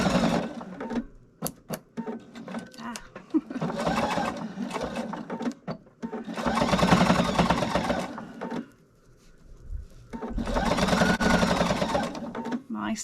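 A sewing machine stitches a reinforcing seam on a fabric bowl cozy, whirring in several steady runs of two to three seconds with brief pauses and clicks between them, close and fairly loud.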